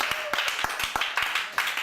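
A congregation applauding at a church gathering, with a steady run of sharp, fairly close claps in an uneven rhythm throughout.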